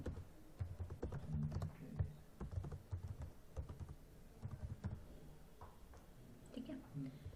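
Fingers typing on a computer keyboard during a statistics lesson using Python: a steady, close run of soft, uneven key clicks, with a quiet voice speaking faintly underneath.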